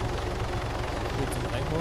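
Little Bird helicopter coming down to land in Arma 3, a steady rotor thrum and engine drone at moderate loudness throughout, with voices talking over it.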